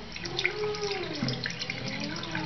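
Tap water runs steadily from a faucet as a dirty foundation makeup brush is rinsed under it, a continuous close splashing stream with small shifts as the brush moves through the flow.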